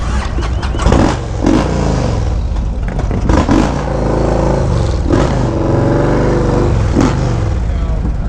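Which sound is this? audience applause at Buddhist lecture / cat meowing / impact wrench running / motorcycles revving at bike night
motorcycles revving at bike night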